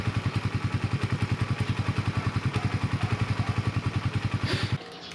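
A Yamaha Raider 150 Fi motorcycle engine idles close by to warm up, a steady, fast, even putter that stays loud and regular for several seconds and then cuts out abruptly near the end.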